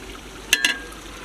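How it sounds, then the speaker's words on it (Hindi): Mutton korma masala frying in a pot, Degi style, with a low steady sizzle and two brief sharp scraping clinks of a stirring spoon close by. "मज़ीद इसे मैं अच्छे तरीके से भूनूंगा"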